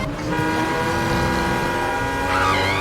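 A sports car driving fast, its engine drone steady and close with a rising whine near the end, heard alone without talk.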